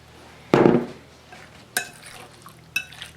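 A fork stirs chicken thighs coated in teriyaki sauce in a dish, one sharp scraping clatter followed by two lighter metallic clinks, close and with no voice.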